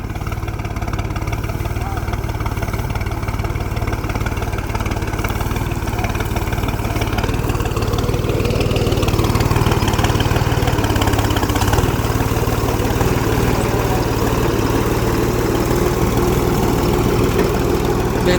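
A steady, low tractor diesel engine idles without pause, chugging evenly close by, with voices speaking over it.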